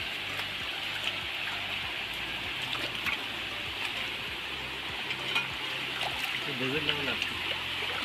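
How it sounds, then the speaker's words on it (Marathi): Water trickles and gurgles steadily down a small channel nearby, with faint talk underneath. "तर इथून असं खाली पाणी जातं आहे"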